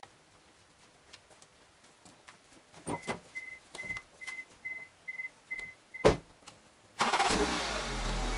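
A Honda Civic starts up after a series of clicks, knocks and a repeating short beep, and its engine then runs at a close, steady idle.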